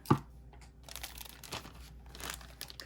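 Plastic seal on a package being cut open, faint close crinkling and tearing with a sharp snip at the start followed by quiet rustling handling.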